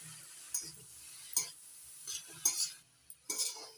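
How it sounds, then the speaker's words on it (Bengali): A spoon stirs shredded cabbage with chopped ginger, salt and turmeric in a pan, giving a few separate scraping strokes and light clinks with short quiet gaps between them. "এবার ভালো করে নাড়াচাড়া করে মিশিয়ে নেব।"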